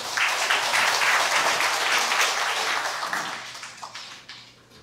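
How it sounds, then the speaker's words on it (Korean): A crowd at a Buddhist temple ceremony applauds steadily with dense, sustained clapping that begins to thin and fade near the end. "큰 박수 모시겠습니다"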